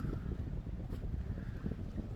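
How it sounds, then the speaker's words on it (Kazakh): Steady wind blows at an ocean shore, buffeting the microphone with a constant low rumble and no speech. "Салқын, жел ұрып тұр, рахат."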